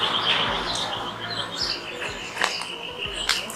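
Small birds chirp and tweet in short, scattered bursts outdoors near a public square and café, the calls fairly close and bright over a soft background hum.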